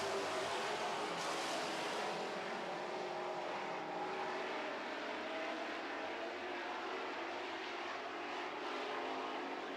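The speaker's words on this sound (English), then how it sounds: "getting ready to go Super Truck racing here" Super Truck race trucks roar around a track during a race, a dense, steady wall of engine noise heard from trackside, loud and continuous with no talk over it.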